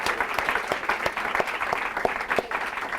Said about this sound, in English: let's give a big round of applause to these great actors.